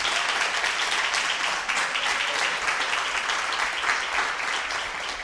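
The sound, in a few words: congregation applauding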